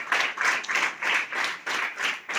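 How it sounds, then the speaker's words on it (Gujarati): Audience clapping in a loud burst of applause welcoming donors at an NGO gathering, rhythmic waves of many hands sounding close and steady, with no talk over it. "એમના માટે જોરદાર તાળીઓથી સ્વાગત કરીએ"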